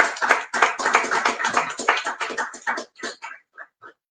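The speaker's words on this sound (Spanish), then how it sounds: "Vamos a recibir a Carlos con un fuerte aplauso" Applause from an audience at a magazine launch in a bookshop, a small group clapping near and fairly loud at first, then thinning out into a few scattered final claps.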